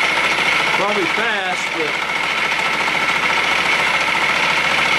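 A homemade chamfer cutter runs at about 600 RPM with a steady mechanical hum and whine while someone talks over it.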